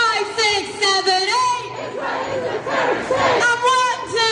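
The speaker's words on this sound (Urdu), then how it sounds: "صہیونی فورسز کے خلاف نعرے بھی بلند کیے گئے" A protest crowd chanting slogans against Zionist forces, loud massed voices shouting in rhythmic call-and-response bursts, close and dense, with a lead voice rising between the group chants.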